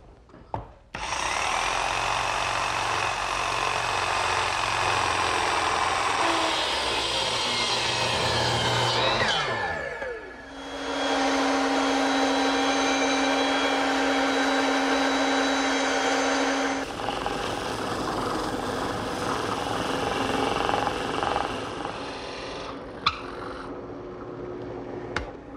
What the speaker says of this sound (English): Now I'm going to clamp it in my bench vise and cut out the rest of the inside with the jigsaw.